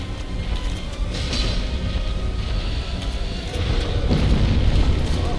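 A boss in the video game Dark Souls sets off an explosion right in front of him, a loud, sustained rumbling blast with crackling debris that swells and holds for several seconds.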